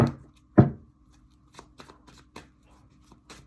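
A tarot deck being shuffled by hand: two sharp riffling bursts at the start, then softer scattered card slides and taps, close and quiet with no talking.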